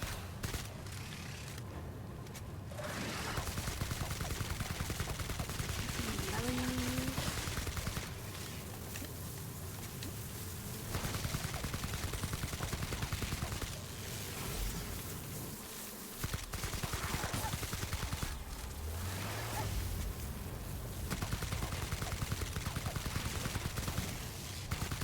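Gunfire in The Outer Worlds sci-fi game, repeated bursts of shots recurring across the stretch under a steady background bed, fairly loud and close, with occasional faint voice.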